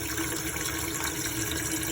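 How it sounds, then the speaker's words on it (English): Cold water runs steadily from a caravan tap with the pump on, a constant close hiss and splash with no pauses and no talking. "come to this tap and pull the cold water, let the pump turn on"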